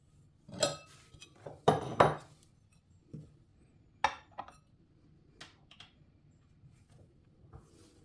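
A tin of preserves is opened close up with sharp metallic clicks, scrapes and clinks in scattered bursts separated by quiet gaps, with no voices.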